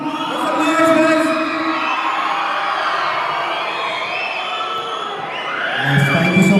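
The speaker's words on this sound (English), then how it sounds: "Everybody, make some noise, guys." A live audience cheers, whoops and shouts together as a steady wall of crowd noise, swelling again near the end; some voices, including children's, rise above the roar.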